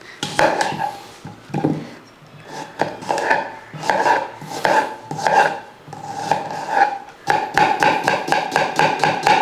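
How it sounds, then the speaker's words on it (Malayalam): A knife finely chops a large onion on a cutting board in a home kitchen, making a quick run of sharp, close taps. The bursts come in uneven groups, then a faster steady rhythm near the end. "ചെറുതായിട്ടൊന്ന് കൊത്തി അരിഞ്ഞെടുക്കുക."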